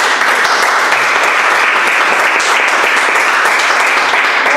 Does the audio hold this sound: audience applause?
yes